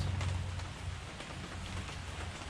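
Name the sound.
rain water splattering and splashing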